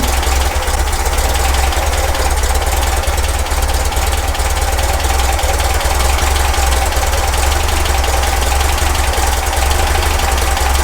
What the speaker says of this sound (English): Now for tuning purposes, that's a really low idle.